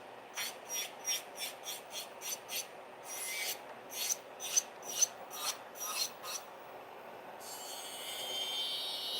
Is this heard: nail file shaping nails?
yes